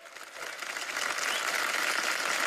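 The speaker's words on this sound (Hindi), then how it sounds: "इन सब के लिए तालियां होनी चाहिए" Studio audience on a Kapil Sharma comedy show applauds a group of women dressed in traditional Indian outfits, a steady wash of clapping that swells and holds at a fairly even level, with no talk over it.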